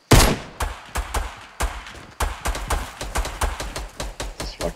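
Rapid pistol fire in the video game Fortnite rings out as loud, close shots, some in quick bursts and some spaced apart, with no one talking over it.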